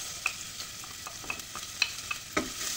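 Onions being stirred in hot oil previously used to fry garlic, with a steady background sizzle and several sharp scrapes and clinks of a utensil against the pan at irregular intervals, close by and with no talk.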